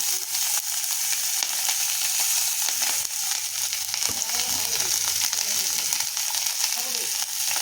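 Masala with salt and turmeric frying in a pan: a loud, constant sizzle with stirring and scraping sounds partway through.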